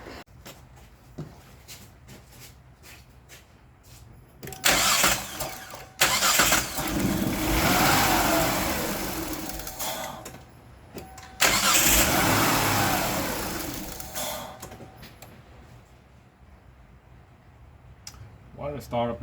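A Kia Sportage 2.7 with misfires and surging cranks and fires up, runs loudly for several seconds, shuts off, then starts and runs again before cutting out, with someone talking faintly in the quiet gaps.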